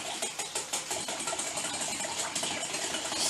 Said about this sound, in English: So, get that all whisked together.